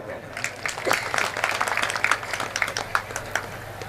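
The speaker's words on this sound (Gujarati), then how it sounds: "બેયને તાળીઓથી વધાવો." Audience applause at a Gujarati folk-literature stage program, a dense, steady patter of clapping that runs throughout, mixed with a voice.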